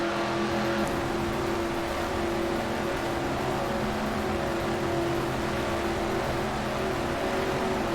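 Race car engine in NASCAR Racing 2003, a loud, constant droning roar with steady engine tones and wind noise, heard from an outside-the-car view, no talking.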